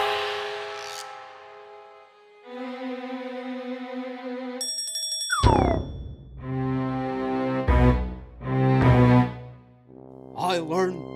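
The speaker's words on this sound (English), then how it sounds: "if you ever need help, just ring this bell" A hand bell rings in a Tom and Jerry cartoon: a bright, high metallic ding stands out amid cartoon music and sound effects, close and fairly loud.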